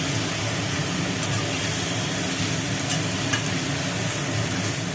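Chopped greens and eggplant fry with poppy seed paste in a pan, giving a steady, close sizzle with faint stirring scrapes that runs unbroken throughout.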